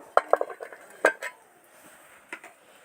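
Metal pot and utensil clatter as soaked, sprouted chickpeas are washed and tipped into a pot in a home kitchen: a few sharp clinks early, one louder clank near the middle, then a faint knock, no talk.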